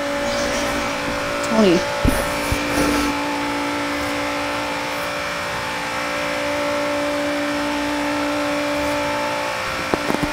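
A 2016 Dodge Viper ACR V10 drives in Forza Horizon 3, its engine a steady sustained drone with brief revving swells and a faint tire squeal early on, while a voice speaks briefly over it.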